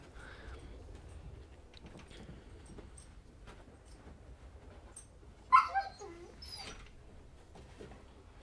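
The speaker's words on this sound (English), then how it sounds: "I might hear the pups in the background, getting a little anxious" Anxious pups whimper and give a couple of short yips in the background, faint and distant, with a brief louder burst of yelping midway through an otherwise quiet room.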